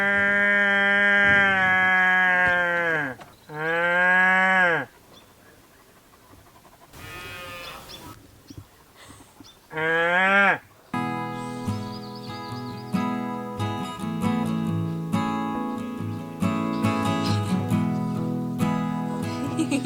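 Cows on a farm moo in several loud, drawn-out calls close by, bunched in the first few seconds with another near the middle, followed by a busier stretch of steady tonal sound.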